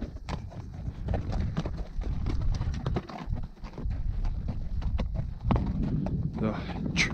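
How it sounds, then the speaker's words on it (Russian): Irregular hoof clops of a horse stepping carefully over loose stones on a high mountain scree slope, steady and fairly close, with a low rumble of wind or movement underneath. "По каменным осыпям лошадь осторожно идет."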